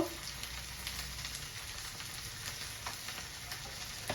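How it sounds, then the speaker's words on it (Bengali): Spices with Kashmiri chili and turmeric fry in a pan with oil for a vegetable and chana dal curry, giving a steady close sizzle with occasional soft stirring scrapes throughout. "মশলাটা ভালো করে কষিয়ে নেব"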